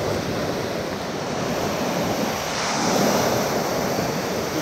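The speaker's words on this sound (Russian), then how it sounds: "Моречко сегодня неспокойное." Rough winter surf off Cyprus churns steadily, a broad rushing roar of waves with wind noise buffeting the microphone, swelling slightly louder toward the end.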